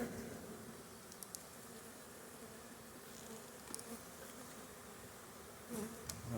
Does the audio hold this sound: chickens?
no